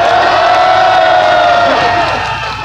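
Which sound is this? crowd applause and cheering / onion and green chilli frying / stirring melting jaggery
crowd applause and cheering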